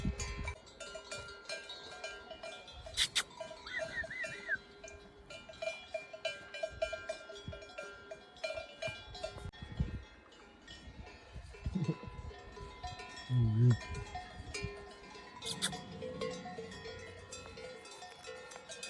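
Cowbells clank irregularly from cows grazing in an open field, some bells near and others farther off, with steady outdoor ambience and no talking.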